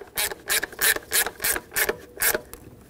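A 10 mm ratchet snugs fuel injector mounting nuts on a 2008-2020 Dodge Grand Caravan 3.6L, producing about seven rhythmic ratcheting bursts in quick succession, close and clear without talk.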